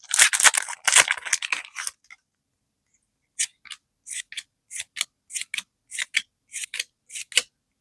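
A Fullmetal Alchemist trading card booster pack is torn and handled: a few loud crinkling rips up front, a pause, then a string of short, crisp snips and rustles close by.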